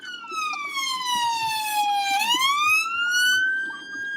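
A bird imitates a wailing police siren: a clear whistled tone sweeps slowly down, then rises again, loud and continuous over faint background noise.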